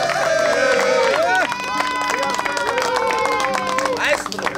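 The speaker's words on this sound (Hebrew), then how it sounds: "תנו לו כפיים, חבר'ה" Audience clapping for performers at a live Hebrew music gathering with organ and flute, steady dense applause blended with music and crowd noise throughout.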